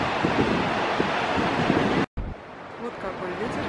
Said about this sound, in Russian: Очень холодно, ветер сильный.